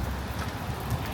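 Rain falls steadily and evenly in a brief, constant wash of patter on surfaces nearby, with no other sounds.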